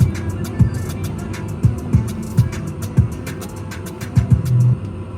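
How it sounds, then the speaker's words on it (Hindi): Cars drive through street traffic in Riga, Latvia, giving a steady road rumble with several vehicles whooshing past nearby at irregular intervals. "यहाँ पे ना गाड़ी चलाने वाले इतने बदतमीजी से गाड़ी चलाते हैं"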